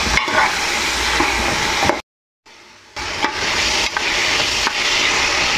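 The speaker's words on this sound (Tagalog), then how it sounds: "kahalo natin para lumasa yung bawang at sibuyas na nilagay natin" Garlic and onion sauté in a hot pan for beef bola-bola, with loud sizzling and scraping strokes of stirring, briefly cut to silence midway before resuming.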